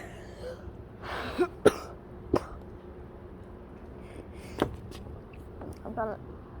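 Someone who is sick coughs several times in short, sharp bursts spaced a second or two apart, close to the microphone, with throat-clearing sounds over a quiet background.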